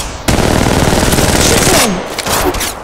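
Gunfire in Apex Legends Mobile: a rapid automatic burst rattles loudly for about a second and a half, then tapers, followed by a few more shorter bursts close up.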